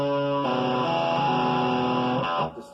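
A distorted bass guitar chord rings loud and sustained through an amplifier, shifting pitch once midway before cutting off.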